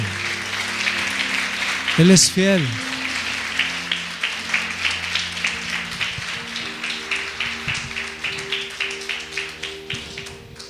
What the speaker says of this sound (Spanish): ¿Le podemos dar un fuerte aplauso a Jesús?